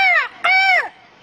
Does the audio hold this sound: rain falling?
no